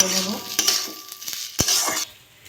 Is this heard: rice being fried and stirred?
yes